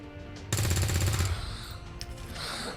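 Soldier's rifle firing in XCOM 2, a rapid loud burst of automatic shots lasting under a second, followed by a fading rattle and ambient game sound.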